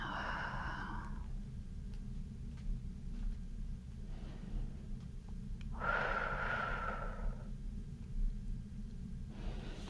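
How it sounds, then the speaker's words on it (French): Slow breathing in and out during a beginner chair yoga session, a long airy inhale or exhale heard twice, soft and close over a steady low room hum. "On inspire et on expire."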